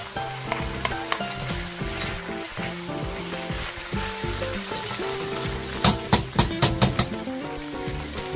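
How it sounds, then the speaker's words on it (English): Egg frying in a pan with oil, part of a Thai ground beef and basil dish, giving a steady close sizzle with stirring and several sharp utensil clatters near the end, no talk. "We're just going to fry some egg and we'll put this on top of the rice."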